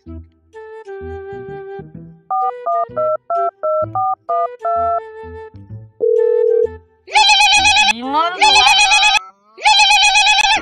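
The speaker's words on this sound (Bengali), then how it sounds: "একবার ফোনটা লাগাই আমি দেখি আগে যে কোথায় আছে।" Electronic phone tones: a sequence of keypad beeps and short melodic notes, then loud repeated bursts of a ringing tone with a warbling sweep between them.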